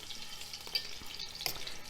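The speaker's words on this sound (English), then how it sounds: "going to put all my pieces of meat in there, and the skillet will heat up pretty quick" Venison steak pieces sear in a hot skillet, giving a faint, steady frying sizzle with a couple of soft crackles and scrapes, and no one speaks.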